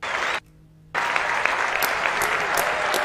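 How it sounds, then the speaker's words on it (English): A round of applause: dense, steady clapping that cuts out abruptly for about half a second, then resumes at full strength with sharp individual claps standing out until the end. "Round of applause."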